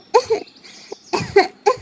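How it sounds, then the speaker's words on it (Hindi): Cartoon coughing from a young crow character in a Hindi children's cartoon: several short, close, loud coughs in quick bursts, separated by brief pauses. "मुझे बहुत खांसी हो रही है"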